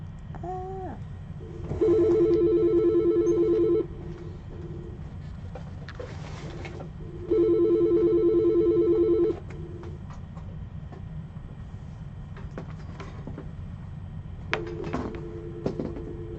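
A telephone rings in two long electronic bursts with a pause between, heard clearly over a steady low hum during a live morning broadcast, followed by a shorter tone near the end.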